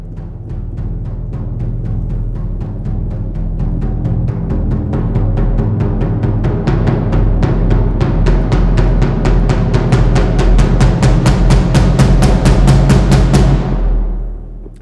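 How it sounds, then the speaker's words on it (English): A 23-inch surdo drum in high tuning, struck in a steady roll that swells from very quiet to very loud, the strokes quickening into a dense rumble before cutting off near the end. "this is a 23-inch Surdo in its high tuning"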